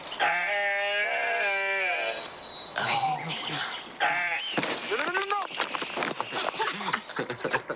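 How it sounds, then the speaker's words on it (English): A young goat bleats in a wavering, repeated cry close by, followed by a mix of people's voices and more broken bleating sounds. "Hey, baby goat."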